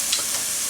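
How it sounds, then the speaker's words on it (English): Garlic frying in a pan for a chickpea and potato curry, a steady close sizzle and crackle without pause, fairly loud, with no voices. "I just let that cook until it starts to color"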